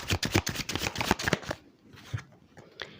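Tarot cards riffle and slap together in a quick, close shuffle lasting about a second and a half, followed by a couple of soft flicks as single cards are drawn from the deck.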